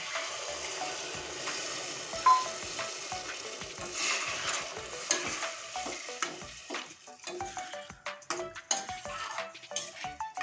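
Water poured into a frying pan of soybean and potato curry hisses and sizzles, then a spoon stirs and scrapes through it in uneven clinks and scrapes, close up with no talking.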